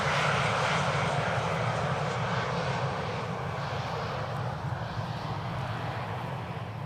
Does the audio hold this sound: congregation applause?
no